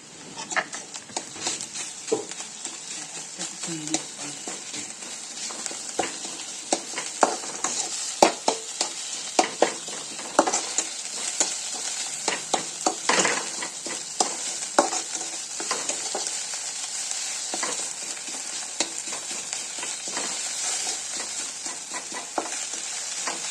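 Onions and a prepared spice mix frying in a pan while being stirred, with bright steady sizzling and frequent clattering scrapes of a spatula throughout.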